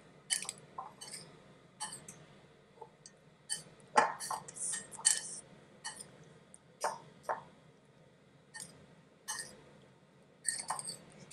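Buddha bowl salad being mixed in a bowl: sporadic light clinks, scrapes and soft wet tosses come in irregular bursts against a quiet background.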